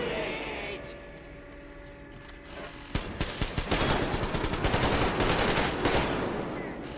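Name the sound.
gunfire from a weapon in the video game Metro Exodus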